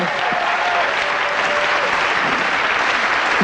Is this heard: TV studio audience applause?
yes